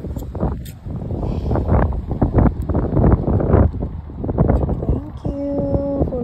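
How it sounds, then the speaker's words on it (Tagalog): Strong, cold wind blusters against the microphone outdoors in Calgary, a loud, continuous gusting roar with rustling. A voice can be heard faintly beneath it, and a short electronic tone sounds near the end. "Lakas ng hangin."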